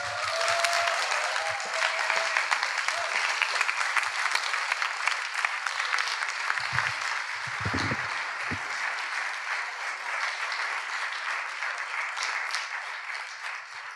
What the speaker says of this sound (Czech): Tohle zaslouží potlesk.